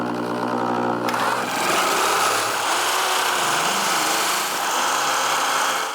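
A nibbler or shears bite through sheet metal for Triumph TR4 bulkhead and heelboard repairs, a dense, steady buzzing chatter that runs continuously and fairly loud throughout.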